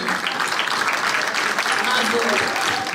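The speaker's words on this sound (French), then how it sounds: "Est-ce qu'on peut les applaudir, s'il vous plaît?" An audience applauds steadily at a charity gala in Brussels, with dense, sustained clapping that is loud and close and continues throughout with no break.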